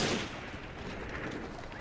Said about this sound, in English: He's just shooting randomly